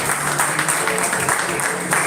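Applause at a Rotaract club meeting, a short, even spell of dense clapping from a gathered group, filling the whole moment.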